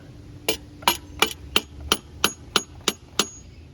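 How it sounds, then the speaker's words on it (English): A hammer smacks a bolt out of the front engine mount on a 2004 Pontiac Grand Prix during oil pan gasket work: nine sharp metallic blows at a steady, moderately quick rhythm, close and distinct over a quiet background. "You gotta grab your trusty hammer and smack this bolt back out."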